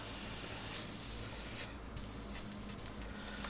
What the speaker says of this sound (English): Just through the airbrush to get a good white base